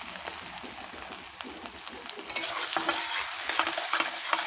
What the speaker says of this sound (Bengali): আদা রসুন লঙ্কা আমার ভাজা হয়ে গেছে।